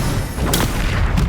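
Confringo blasting curse in Hogwarts Legacy: a dense, booming explosive rumble with a sharp burst midway and another near the end, loud and close.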